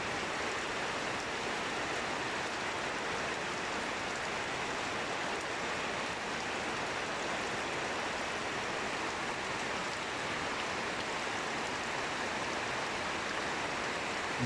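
Continuous, windless night rain pours steadily over a village in Kashiani, Gopalganj, a dense, uniform hiss that holds at the same moderate level throughout, with no voices.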